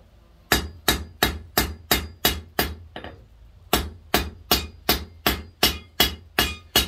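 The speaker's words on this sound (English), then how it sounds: "Just kind of planishing the corners down." A hammer planishes the tapered corners of a forged firepit poker on an anvil. Two runs of eight and nine evenly spaced, ringing metallic blows are separated by a brief pause with one faint tap.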